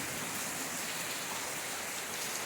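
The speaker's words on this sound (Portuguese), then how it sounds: "Muita chuva, gente." Heavy rain pouring steadily, a dense, continuous hiss of drops hitting surfaces, loud and unbroken with no voices.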